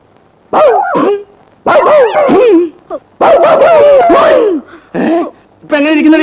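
A human voice imitating dog barking in a Malayalam comedy film scene, with several loud close yelping barks and whimpering howls in short bursts separated by brief pauses.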